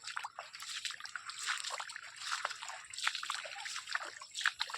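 Irrigation water runs through a farm field in a gurgling, trickling stream with small sloshes and splashes. It stays close and moderately loud, with no talk over it.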